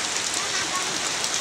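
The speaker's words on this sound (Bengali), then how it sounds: "ঝুমঝুম করে বৃষ্টি পড়তেছে।" Steady summer-morning rain pours down in a dense, even hiss of drops striking surfaces, continuous and fairly loud with no pauses.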